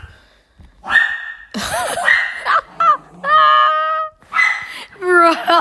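A dog named JJ howls indoors in drawn-out, wavering cries broken by short yips and whimpers, loud and close, with brief gaps between calls.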